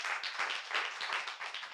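A church congregation claps in steady, dense applause, many hands together at close range for a short burst.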